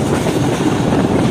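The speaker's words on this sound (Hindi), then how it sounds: "ये ट्रेन अप्रोच कर रही है यूसुफ वाला रेलवे स्टेशन पर" A Pakistani passenger train rolls past steadily on approach to a railway station, with rhythmic clickety-clack of wheels over rail joints, loud and close, no voices.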